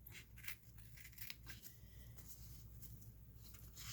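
Scissors snip through lining material, velvet or paper, being trimmed to fit a jewelry box drawer, with several close, crisp cuts and light rustling over a steady low hum.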